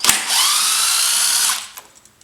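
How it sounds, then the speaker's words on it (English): An electric impact gun with a 10mm socket backs out a bolt in one loud, close whirring burst of about a second and a quarter. A few light metallic clicks follow. "and that's a 10mm socket, and if you have one, an electric impact gun"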